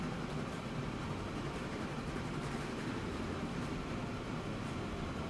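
A wood-hauling train in the Transport Fever 2 game climbs hills with a low, steady rumble and faint mechanical hum, continuous and quiet, with no talk.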